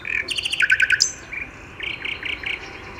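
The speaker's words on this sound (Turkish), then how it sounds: "Ha, bülbül bu." A common nightingale sings close by: a rapid rattling trill of bright repeated notes, a pause, then a slower series of clear whistled phrases.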